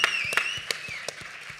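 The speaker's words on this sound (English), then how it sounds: "Give Rodney a great round of applause" Convention audience applauding for Rodney Ellis, a brief spell of scattered claps under a high whistling or whooping tone, moderately quiet.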